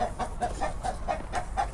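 Porcelain d'Uccle bantam chickens and spare roosters clucking outdoors, a steady series of short repeated clucks at a quick even rhythm, close and moderately loud.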